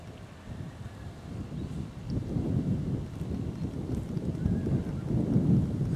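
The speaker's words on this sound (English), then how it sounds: "And it certainly is quite a breeze today" A steady breeze blows outdoors across open countryside near the Downs, a continuous low rushing roar with gusts that swell louder toward the end, partly buffeting the microphone.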